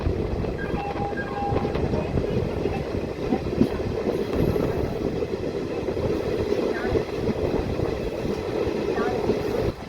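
A DEMU local train at Akkannapet junction rumbles steadily and loudly, with rail clatter and a faint horn-like tone over a dense low roar, and voices mix in under the noise.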